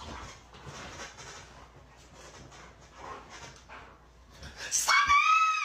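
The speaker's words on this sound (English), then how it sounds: "This guy wanted to see what would happen if he screamed while his dogs were playing." Several dogs play together indoors with scuffling growls and yips under ongoing talk, then a man's sudden loud scream cuts in near the end, followed by sharp dog reactions.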